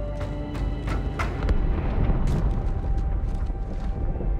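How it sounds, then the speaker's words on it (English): A deep, rumbling explosion aboard the ship Athens in Halo 2 Anniversary, a sustained roaring boom with crackling bursts and debris-like pops rolling on for several seconds. "That explosion came from inside the Athens."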